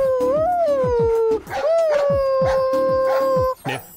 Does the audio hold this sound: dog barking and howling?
yes